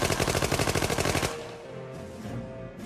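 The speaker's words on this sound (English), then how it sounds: "If there was one gun that let everyone know a criminal had arrived, it was the Tommy gun." A Thompson submachine gun, the Tommy gun, fires a fast, even burst of roughly a dozen loud, closely spaced shots, then stops abruptly, leaving a low, fading ring and faint background noise.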